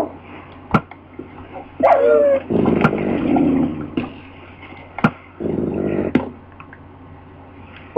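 Dogs bark and yip in Minecraft on a Tekkit Classic server, several short barks and whimpers scattered over a steady low game hum, with sharp clicks in between.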